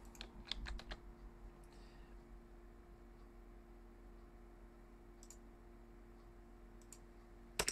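A computer keyboard is typed on in a quiet room, with a few quick clusters of clicks near the start, scattered single key taps in the middle and a final pair of keystrokes at the end, all faint.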